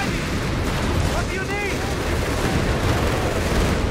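Rumbling artillery strike explosions from the video game Company of Heroes 3, a dense continuous barrage mixed with gunfire, with a voice talking over it.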